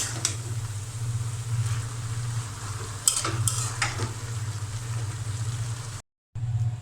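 Radish greens with salt fry in a pan on a stove, giving a steady, close sizzle with a low hum beneath and a few sharp scrapes of stirring; the sound cuts out briefly near the end.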